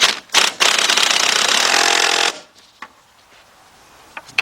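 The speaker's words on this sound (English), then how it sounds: "I'm going to be using my cordless impact. So let's tighten up those two first." Cordless impact wrench tightening bolts on a Volkswagen Beetle engine during head gasket and timing belt work, two short rattling bursts followed by a sustained loud hammering run of about two seconds, then quiet with faint clicks.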